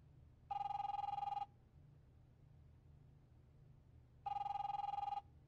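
A telephone rings twice in The Wolf Among Us video game, two clear electronic bursts about three seconds apart against a quiet, low hum.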